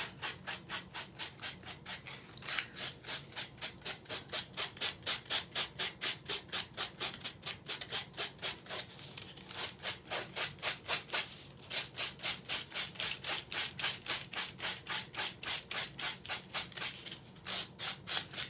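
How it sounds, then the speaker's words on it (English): Steady back-and-forth scratching of sandpaper on a surface, dozens of quick rhythmic strokes, close and fairly quiet, with no voices. "I'm going to grab my sandpaper and we are going to sand this."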